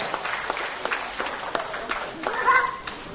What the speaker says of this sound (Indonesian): tepuk tangan dulu sekali lagi untuk kita semua